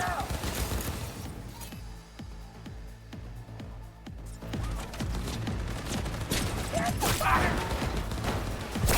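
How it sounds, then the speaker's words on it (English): Sustained gunfire rattles through a firefight in the video game Cyberpunk 2077, dense volleys mixed with mechanical clanks and crashing debris, loud and continuous with brief lulls. "Who is shooting at me?"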